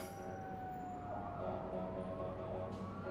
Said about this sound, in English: Do you hear that fire engine?